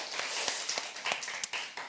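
A church congregation claps together to welcome attendees, including returning members and children, with a dense, steady patter of many hands held at a quiet, distant level.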